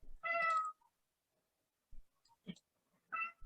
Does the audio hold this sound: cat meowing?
yes